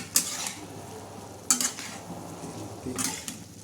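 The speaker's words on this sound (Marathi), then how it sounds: "आता पुन्हा एकदा हलवून घेणार आहे" A spoon scrapes and stirs through chicken curry with tomatoes in a pan three times, short scraping bursts over a faint background sizzle.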